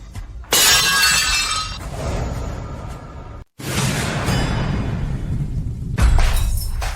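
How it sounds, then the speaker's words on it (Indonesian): Porcelain shatters in a loud, bright crash with a long scatter of tinkling shards, then after a brief silence a second crash with more pieces clattering and settling. "Kau pecahkan porselen Pak Dong?"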